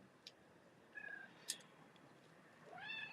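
A cat named Luna gives a few faint, thin meows and short chirps, scattered and quiet against a soft background hiss, with a slightly longer rising call at the end.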